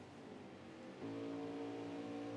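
A race car engine at full throttle during an ENEA racing round at Pocono, a steady high-pitched drone that steps up sharply midway, with another car running close behind.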